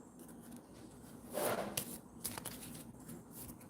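Tarot cards shuffled by hand before laying out a spread, a soft riffling burst around the middle of the clip with lighter flicks and card slaps after, close and fairly quiet with no talk.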